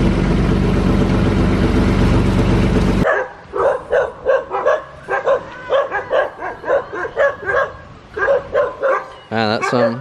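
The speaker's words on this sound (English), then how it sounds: "Here we have the beach dog." A beach dog on Tablas Island in the Philippines yips and barks in a quick run of short, close bursts after a loud rush of wind or surf noise at the start.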